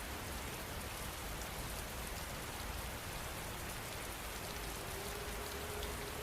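Steady rain falls in an unbroken, even hiss of countless drops on surfaces, continuous and fairly close throughout with no voices or other sounds.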